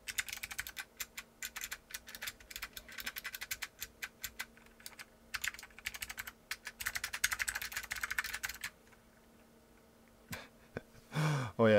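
Rapid typing on a TheVan MiniVan R2 keyboard with Blue Alps switches, close, crisp clicky keystrokes in irregular bursts and runs, fading to a pause before a few final clacks.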